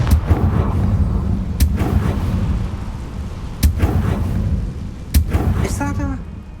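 Spell blasts from the Bombarda and Confringo explosion spells in the Hogwarts Legacy video game: several sharp booming bursts over a dense, rumbling game soundscape, with a final crackling flourish.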